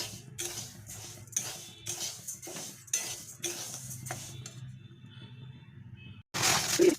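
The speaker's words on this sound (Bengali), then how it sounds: "যতক্ষণ না এর থেকে মিষ্টি গন্ধ ছাড়ছে ততক্ষণ এটাকে সুন্দর করে ভাজতে হবে।" Gobindobhog rice is fried in a pan, heard as a series of scraping, clinking stirs with a spoon against the metal, a pause, then a loud hissing burst near the end.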